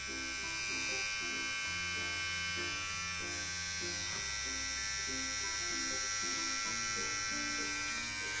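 A Xiaomi Mi Trimmer 1C electric trimmer is switched on and runs with a steady, close, faint buzzing hum that wavers slightly in pitch over several seconds, with no talk.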